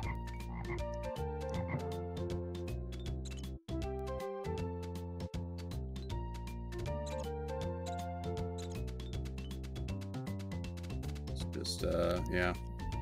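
Synthesized frog croaks from the Super Nintendo game The Lion King repeat among dense in-game music, with a brief dropout midway and a brighter burst near the end.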